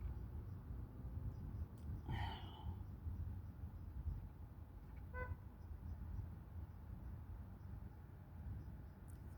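A single short, distant honk rises faintly over a steady low rumbling background, followed later by an even fainter brief tone.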